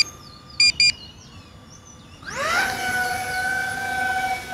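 A DJI Avata 2 drone taking off: two quick electronic beeps, a short pause, then the motors spin up into a rising whine that settles into a steady, close, high-pitched buzzing hum.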